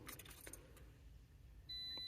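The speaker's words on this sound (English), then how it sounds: "turn on the ignition" Car keys jangle in quick metallic bursts inside a parked car as the ignition is switched on, followed by a steady electronic tone from the dashboard.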